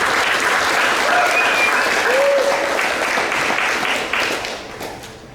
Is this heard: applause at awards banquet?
yes